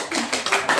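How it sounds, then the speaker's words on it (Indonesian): Classroom applause from students, a short burst of close clapping with no voices over it. "kasih aplaus dulu"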